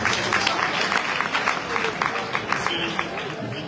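An audience at a debate breaks into sustained applause, the dense clapping steady and fairly close for several seconds, with voices mixed in.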